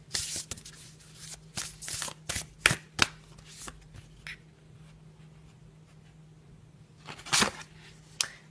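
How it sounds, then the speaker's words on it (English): Tarot cards are shuffled and pulled in quick irregular bursts of soft flicks and slaps, close and fairly quiet, with a long pause in the middle before a final flurry of card handling. "Let's pull out one more card"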